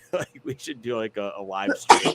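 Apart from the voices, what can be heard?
sneeze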